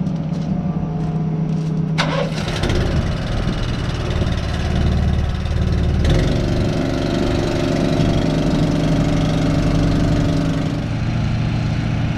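A pump engine runs loud and steady close by while a Case IH Miller Nitro 6300 sprayer is filled with mixed solution in a cornfield setting. The motor drones continuously, with a brief clunk and a change in tone partway through.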